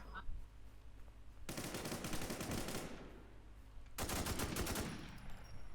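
Rapid automatic gunfire in a multiplayer shooting video game, two long loud bursts of rattling shots separated by a brief lull, with faint background chatter.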